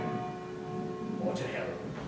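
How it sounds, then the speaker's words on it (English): A bell tolls during a stage performance of Macbeth, holding a steady, sustained ringing tone through the moment while a voice murmurs faintly underneath toward the end. "The bell invites me."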